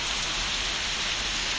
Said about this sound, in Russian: У нас тоже дождь.